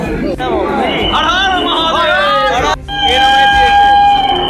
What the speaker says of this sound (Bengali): প্রচণ্ড ভিড় এটা হাওড়া হাওড়াতে এরকম অবস্থা